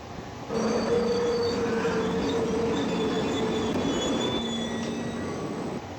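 A train runs on rails with a continuous rolling rumble, overlaid by long, steady squealing tones from the wheels that hold for several seconds.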